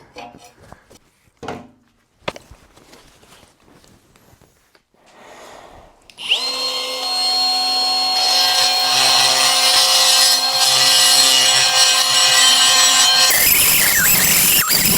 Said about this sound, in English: let's clean this up with a buffer wheel on my die grinder